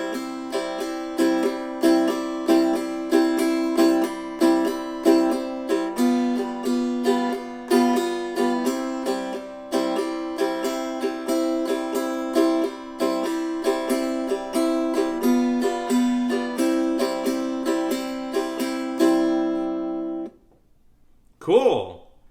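A Loog guitar is strummed in a shuffle eighth-note pattern, long-short strokes repeating steadily and close for about twenty seconds before ringing out into a brief pause.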